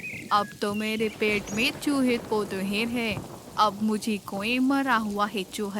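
Heavy rain pours steadily in an animated jungle story about a sparrow and a hawk, a constant wash beneath near-continuous cartoon character voices talking throughout.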